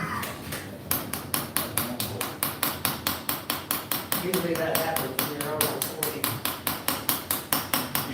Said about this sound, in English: this is the biggest hammer I can swing. It takes me to do that 3/16 pin with that